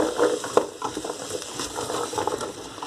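Onions frying in a pot with no fat, a stew base of caramelised onion sugar; soft continuous sizzling with scraping stirs and a few small clinks, close and moderately loud, no voices.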